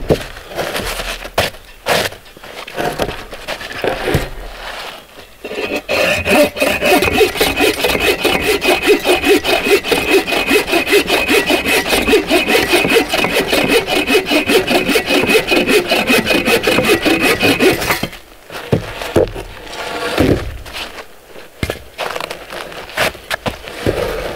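A hand saw cuts through wood in steady back-and-forth strokes, loud and close, with a few scrapes and knocks before and after.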